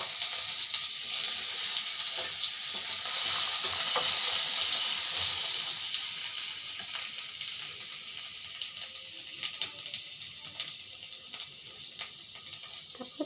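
Grated ginger dropped into hot oil in a pan, a steady bright sizzle and fry that swells early and then settles, close and continuous with no talking.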